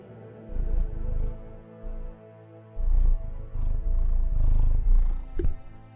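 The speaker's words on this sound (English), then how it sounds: "Mr. Sir is the neighbor's cat." Mr. Sir, a neighbor's cat, purring up close in a steady low rumble that swells and fades in uneven pulses, with brief quieter gaps between.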